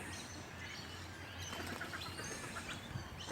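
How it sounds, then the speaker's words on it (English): Ducks quack faintly amid bird chirps over a steady outdoor background hum at a golf park in Salisbury, with scattered calls rather than a continuous chorus. "Lots of ducks."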